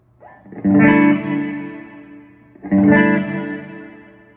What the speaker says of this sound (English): I want to check the reverb real quick